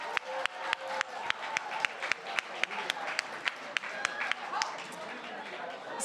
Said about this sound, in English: Dr. Efrain Venezuela is the one cheering so loudly.